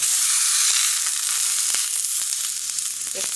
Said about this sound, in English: you just want to get a good sear on them